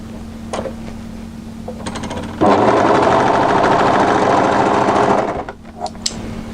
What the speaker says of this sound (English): and I'm going to overlock